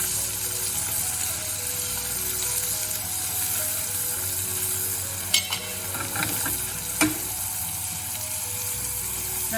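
Asparagus sautéing in butter in a pan, a steady close sizzle and fry with a few brief clinks and stirring knocks partway through, no voices.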